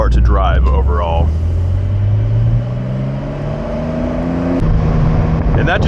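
A Porsche 911 Carrera 4S Cabriolet (992) accelerates hard from a launch-control start, its engine note climbing steadily and loudly through the rev range before a brief shift and renewed pull, with a voice heard over the opening seconds.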